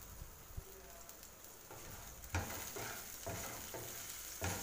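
Chopped ginger and green chillies being stirred in a hot oiled pan, a soft steady sizzle with a few louder scraping stirs, fairly quiet and without talk.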